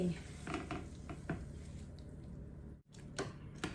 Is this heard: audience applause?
no